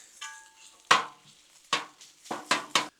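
Sausage is chopped in bacon grease on a Blackstone griddle, with sharp scraping metal spatula strikes, one early and then a quick cluster of three or four, over a soft sizzle.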